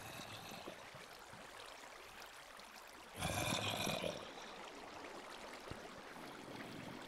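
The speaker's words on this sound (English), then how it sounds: "If only I could stop that water somehow." Flowing water in the Minecraft Hexxit modpack, a soft, steady trickling stream that rises into a louder rushing gush for about a second before settling back to a quiet background flow.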